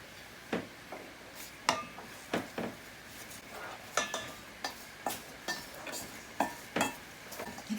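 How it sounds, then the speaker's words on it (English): Batter being mixed with flour in a bowl while home baking, a utensil scraping and knocking against the sides in irregular strokes about once a second, close and fairly quiet with no voices. "Mixing it with flour."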